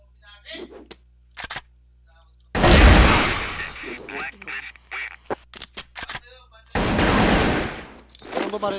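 Rapid bursts of automatic gunfire in a 5v5 online shooter game, two loud volleys close by with short clicks and shots between them, while players talk.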